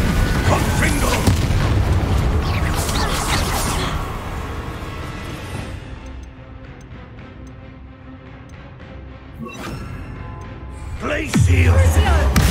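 Confringo fire-spell blasts in the Hogwarts Legacy video game: loud booming bursts at the start and again near the end, with a quieter rumbling stretch between, set amid game voices and battle noise.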